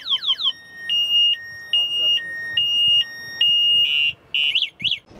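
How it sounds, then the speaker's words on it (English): The anti-theft alarm on a Pure EV eTryst 350 electric motorbike goes off up close, loud: quick descending chirps, then a stepped two-tone beeping pattern, ending in short warbling bursts. "if you move this tire now, it will alarm you."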